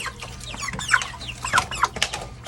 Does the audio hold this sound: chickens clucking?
yes